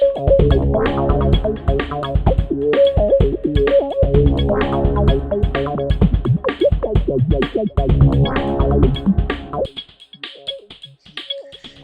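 Snare drum processed with the Aura plugin, with a sharper attack spike and added definition, drives a loud, busy drum-and-music loop that repeats several times before cutting out near the end, leaving only faint tails.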